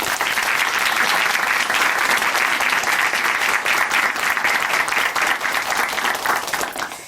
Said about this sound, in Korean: 다시 한번 감사의 박수 또 응원의 박수